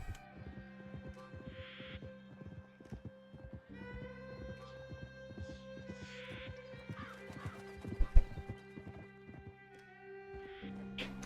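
Horse in Red Dead Redemption 2 neighing repeatedly with whinnies over a steady clip-clop of hooves, an evenly spaced trot running throughout, close and moderately loud, with a faint hum behind.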